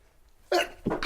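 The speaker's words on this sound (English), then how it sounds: "I have to sneeze" A person sneezes, a sharp loud burst after a quiet intake, followed by a second shorter exhalation, close and alone.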